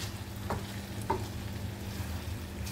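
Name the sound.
chicken kondattam sizzling uncovered in a pan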